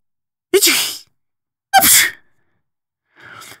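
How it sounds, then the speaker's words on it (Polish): Three sneezes in a row, the first two sharp and loud, the third softer and shorter, each bursting out with a quick intake before it. "coś go kręci w nosie, musi kichnąć"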